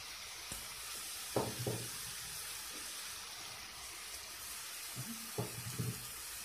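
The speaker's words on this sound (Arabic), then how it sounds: "يقلي شوية البصل" Faint, steady sizzling of onions frying in oil, with a few soft clinks and stirring knocks now and then.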